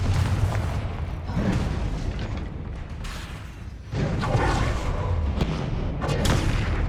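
Spell blasts and combat in Hogwarts Legacy, a continuous barrage of booming explosions and impacts layered densely through the whole stretch with no talk.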